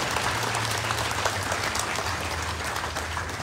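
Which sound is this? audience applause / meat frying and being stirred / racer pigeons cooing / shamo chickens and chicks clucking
audience applause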